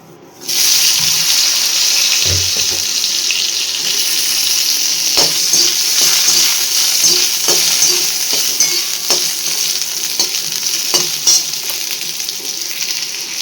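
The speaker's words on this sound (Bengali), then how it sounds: "এই যে কলাটাকে ভেজে নিলাম।" Raw banana slices frying in hot oil in a pan, a steady close sizzle throughout with occasional clinks and stirring scrapes, no voices.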